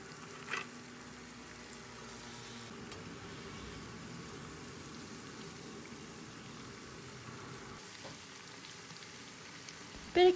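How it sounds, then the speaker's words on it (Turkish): Pişi, fried Turkish dough, crackles and sizzles in oil in a second pan, a steady soft hiss with fine popping that continues throughout, fairly faint with a brief clatter at the end. "İkinci tavaya kızartmaya başladım."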